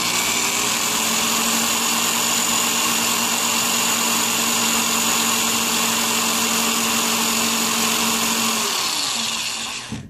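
A power drill twists interlock wire clamped in its chuck, giving a steady, loud, continuous whir that holds for about ten seconds before winding down at the end.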